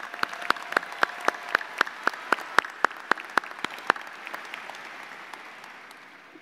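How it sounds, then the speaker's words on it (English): Applause at a high school commencement ceremony, with sharp individual claps standing out over a wash of crowd clapping that swells and then fades away over several seconds. "Let's give one more round of applause for all of our speakers today."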